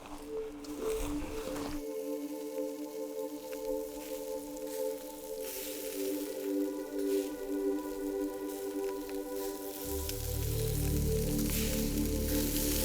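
Meat sizzling over a fire in Tokyo, a faint crackling hiss under a steady background hum, growing louder and busier toward the end.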